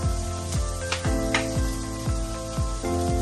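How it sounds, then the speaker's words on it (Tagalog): Onions sauté in a hot pan for chicken sisig, giving a continuous frying hiss. Regular stirring strokes come about every half second, fairly close, with no one speaking. "ito yung una, mag-igisay na natin yung sibuyas"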